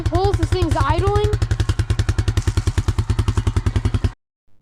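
A Honda Rancher ATV engine idles after sitting abandoned for six years, a steady, rapid putter close by, a low pulsing chug running evenly for about four seconds before cutting off.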